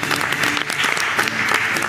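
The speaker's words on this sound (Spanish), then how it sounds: "para quien ya pido un gran aplauso" Steady, loud applause fills a television cooking-competition studio for the two finalist chefs, continuous clapping with crowd noise beneath it throughout.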